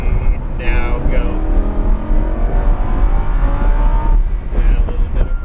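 A Lamborghini Huracan supercar accelerates on a race track, heard from inside the car as a loud engine rising through rapid upshifts, with an instructor's voice over it.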